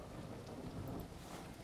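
Steady rain hisses in the Elder Legacy video game, faint and even throughout with a low rumbling undertone and no speech.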